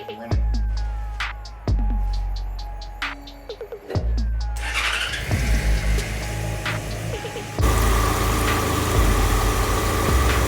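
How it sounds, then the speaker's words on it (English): A motorcycle engine is started and runs at idle while coolant is topped off, with knocks and handling clunks at first, then a steady close engine drone that grows louder and denser toward the end. "now we're about to start it and top it off as it's running"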